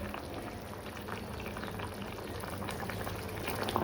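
Fish curry bubbling in a pot on a gas stove, a steady, faint, continuous simmering fizz and pop with no talking.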